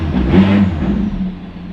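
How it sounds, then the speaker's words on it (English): A turbocharged McLaren 600LT engine revs up briefly, a close, loud surge of engine roar that rises then eases off within about two seconds. "Let's hear what this thing sounds like revving up."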